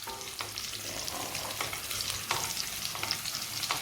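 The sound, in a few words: sautéing green chillies in a pan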